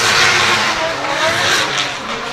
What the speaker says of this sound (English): So Dan Tyler pulls to the line in this 1JZ powered Nissan S14